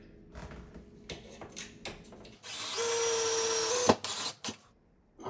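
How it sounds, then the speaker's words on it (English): A power drill whirs steadily for about a second and a half, rising slightly in pitch, then stops while drilling into a shower door wall jamb; scattered clicks and handling knocks come before and after. "Before I drill the other side of the wall jamb"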